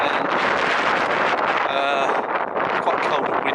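Strong wind on a hilltop in Cumbria, England buffets the microphone in a constant loud roar, with a faint voice partly buried underneath.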